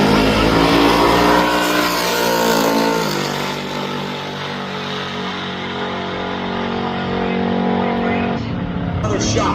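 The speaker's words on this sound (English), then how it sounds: "the 7 Second Sunset Orange Metallic Camaro, going up against the Chevelle." A Sunset Orange Metallic Camaro and a Chevelle drag racing at a strip during Sick Summer 2025: loud, sustained engine roar launching and pulling hard, fading slightly into the distance before another surge, with no talking.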